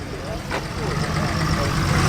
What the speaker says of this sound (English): That's the 6-cylinder Wolseley Hornet. That sounds very bonny, that does.